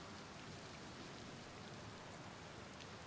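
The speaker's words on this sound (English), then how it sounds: "It's a good thing I never get bored of rain" Steady, even rain falling in the video game Outer Wilds, a dense hiss on surfaces with no breaks and no voices.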